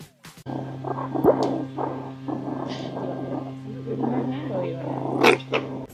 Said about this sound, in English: listen closely to their little growls